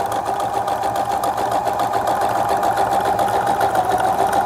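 A sewing machine runs steadily and loudly for a few seconds, stitching a short buttonhole of about an inch with a continuous, even whirring drone and no pauses.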